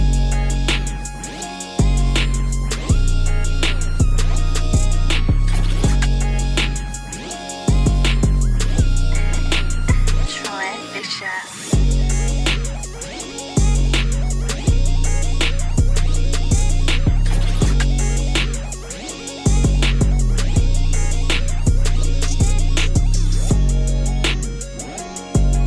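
Full produced hip-hop beat with thick bass, layered melodies and white-noise transition sweeps, playing loud and continuous with a brief drop-out near the middle before the groove returns.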